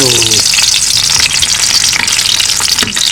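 Hot oil crackles and hisses steadily in a pan while adobo is being cooked, close and loud, with a brief voice at the start and a few faint clinks over the continuous sizzle.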